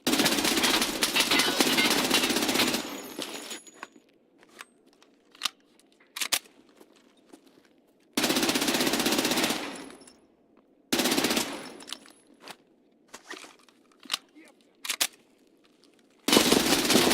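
Automatic gunfire in the video game Escape from Tarkov, several long sustained bursts separated by quiet gaps with occasional single sharp shots, loud and close, no talking.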